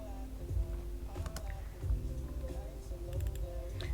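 Someone types code on a computer keyboard with a steady run of close, soft key clicks, while a low hum and faint speech sit underneath.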